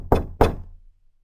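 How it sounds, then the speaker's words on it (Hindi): Two firm knocks on a door, evenly spaced and close, each a sharp thud that dies away quickly, followed by silence. "दूसरी दस्तक सुनाई दी"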